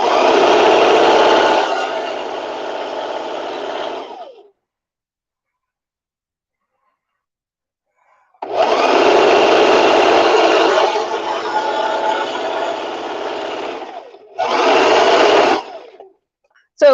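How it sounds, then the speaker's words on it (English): A sewing machine runs a straight seam along folded headband fabric in bursts: a long loud stretch, a pause of silence, then another long run and a short final burst, close and steady. "it is just sewing a straight line with this guy folded in half"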